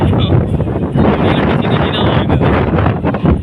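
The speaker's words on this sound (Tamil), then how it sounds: "பக்கத்தில் கடல் இருக்கு இல்லையா இருக்கிறதுனால காற்று பயங்கரமாக அடிக்குது" Strong wind beside the sea at Rameswaram roars and buffets close against the microphone, loud and continuous with gusty surges throughout.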